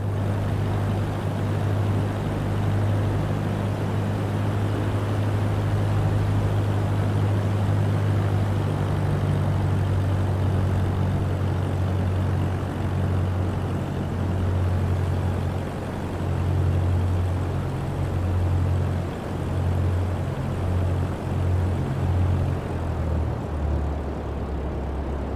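A Cessna touches down on runway 28 in Flight Simulator 2024, its steady engine drone and low propeller rumble continuous and fairly loud throughout, settling slightly toward the end as it rolls out.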